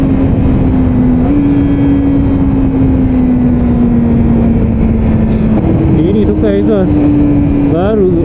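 A stock-exhaust Kawasaki Ninja ZX-25R SE hums at a steady high pitch while riding uphill, then rises in short revving surges near the end. A steady rush of wind runs underneath.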